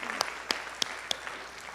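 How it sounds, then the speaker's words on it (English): A short burst of audience applause: several sharp, distinct claps land at a steady, fairly slow pace over a softer bed of scattered clapping. "can we just give these guys a big round of applause?"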